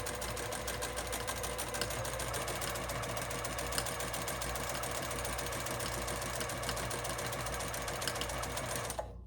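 A sewing machine runs steadily through free-motion quilting on fabric, a fast, even mechanical stitching whir that continues almost unbroken for about nine seconds and cuts off abruptly at the end, with no talking.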